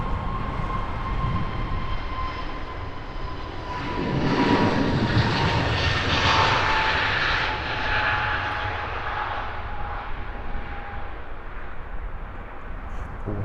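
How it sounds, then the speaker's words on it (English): Deep droning airliner jet engines spool up at a distance at Heathrow Airport, a steady whine rising and swelling in the middle before easing back, with no voices. "Lovely deep droning sound of those engine startups."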